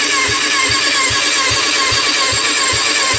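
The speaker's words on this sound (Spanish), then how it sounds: "lo que tengo aquí es un arrancador que tengo conectada la masa al cuerpo del motor de arranque y luego con el positivo le doy ahí" Starter motor cranking a Kawasaki ZZR 600 engine for a compression test, a loud continuous whir with a steady rhythmic chug of compression strokes about twice a second, no voices.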